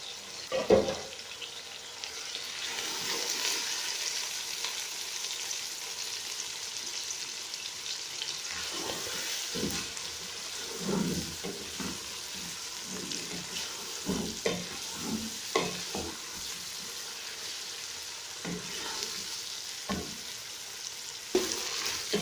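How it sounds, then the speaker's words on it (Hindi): Chopped onions fry and brown in a pan with a steady sizzle, broken up by repeated scraping and stirring strokes. The sound is close and continuous, with no talking. "प्याज ब्राउन हो रही है।"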